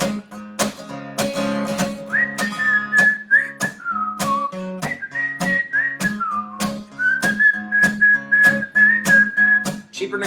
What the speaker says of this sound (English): You guys ready for a whistle solo?